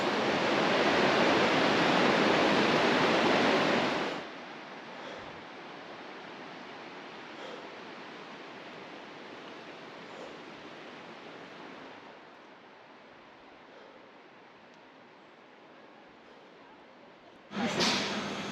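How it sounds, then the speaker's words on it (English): Loud, steady roar of rushing white water up close in Tasmania, then dropping to a softer, more distant flow before surging loud again at the end. "The white water continues and then you can see the pool."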